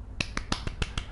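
Six sharp hand claps in a quick, slightly uneven rhythm, close and crisp, with no voices.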